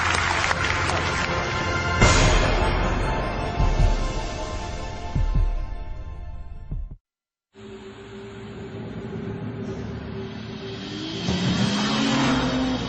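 A BMW 3 Series sports sedan driving: a steady engine hum that rises in pitch toward the end, heard after a stretch of dense applause-like noise and a brief silence.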